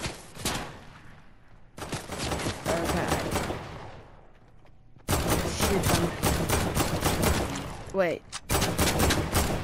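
Video game gunfire with rapid automatic bursts and single shots, loud and close, coming in dense volleys across the whole stretch, with a brief spoken word in between.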